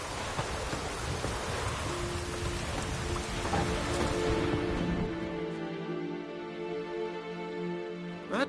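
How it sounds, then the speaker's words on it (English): Steady rain hisses in the Witcher 3 video game, a dense continuous wash that thins after a few seconds as sustained tonal music rises beneath it. "Rain's back again."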